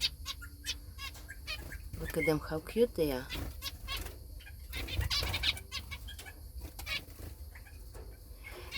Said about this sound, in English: that's the little finches